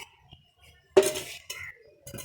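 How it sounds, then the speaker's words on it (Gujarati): A cooking pot is set down on a gas stove in a home kitchen: one sharp, close metallic clank followed by a couple of lighter clinks, with no talking. "તપેલી લગાવી દીધી"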